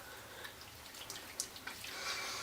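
Tap water runs steadily into a bathroom sink as a face is rinsed, a soft continuous wash with small splashes and drips close by, no talking.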